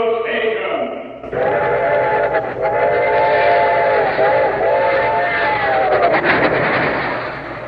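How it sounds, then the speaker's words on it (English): A train sound effect for the Grand Central Station radio show intro: a steam-style whistle blows, then a loud rushing train rumbles past with repeated horn blasts. "day and night great trains rush toward the Hudson River"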